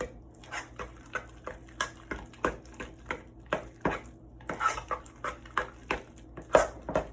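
A spoon stirs homemade cheesy mashed potatoes in a pot, producing a steady run of soft, rhythmic knocks and scrapes several times a second, close by and without talk.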